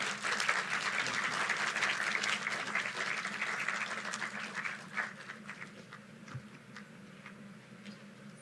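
Sustained audience applause following the Dr. L M Singhvi Memorial Lecture, dense and full at first, then thinning into scattered individual claps toward the end.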